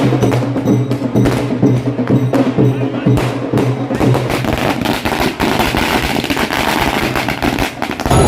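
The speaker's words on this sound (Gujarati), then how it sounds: "ઢોલ નગારા અને ફટાકડા ફોડી કરાય ઉજવણી" Dense crackling bursts of firecrackers pop continuously over a noisy crowd at an election results celebration in Surat, India, with low dhol drumbeats thumping underneath, loud and close.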